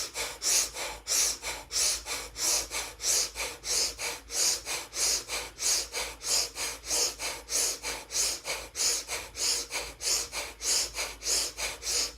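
Rhythmic breathing exercise in a yoga class: quick, forceful breaths repeat in an even, steady pulse of about two a second, close and clear with nothing else heard.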